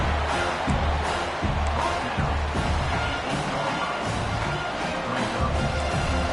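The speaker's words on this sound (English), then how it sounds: "Listen to the crowd energy here in the early going." A large stadium crowd at a Georgia Tech vs. Georgia football game roars and cheers continuously, a dense wash of voices swelling at times, with no clear speech on top.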